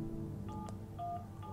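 Telephone keypad tones from the video game The Final Station: several short electronic dial beeps in an uneven sequence over a low steady hum, clear and fairly close.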